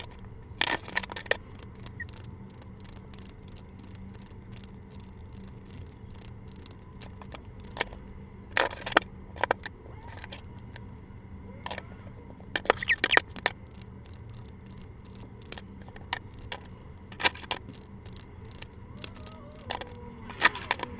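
Tarot cards being shuffled by hand in a quiet room, giving soft scattered riffles and sharp snapping flicks that come in irregular bursts over a low steady hum.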